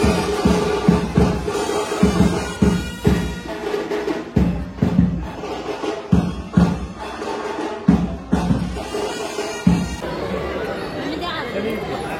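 A large crowd at a Holi celebration, dense overlapping chatter and voices close around with occasional thumps, loud and continuous.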